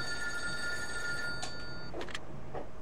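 A telephone rings in The Godfather II video game. The bright, even tones repeat over about a second and a half, followed by a couple of short knocking or clicking sounds, with no talk.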